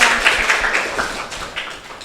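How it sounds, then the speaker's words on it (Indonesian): A classroom audience gives a student presenter a short round of brisk, dense applause, close and fairly loud, tapering slightly over a couple of seconds. "Tepuk tangan untuk Al-Faris dan"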